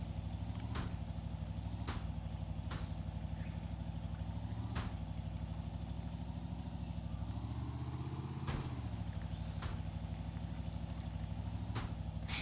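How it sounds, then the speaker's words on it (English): A vehicle engine in the video game My Wobbly Life hums at a steady, faint idle-like drone, with occasional sharp clicks punctuating the continuous low rumble. "Why is the engine not blowing up yet?"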